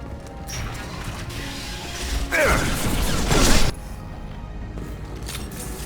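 Large shutters seal shut in a sci-fi action video game, a heavy grinding mechanical slide with a metallic crash building and stopping abruptly, set against ongoing game ambience.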